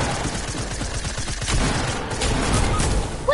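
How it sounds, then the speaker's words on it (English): Sustained video game gunfire rattles in a dense, continuous volley, loud and steady throughout, with no clear voices on top. "Gun is shooting."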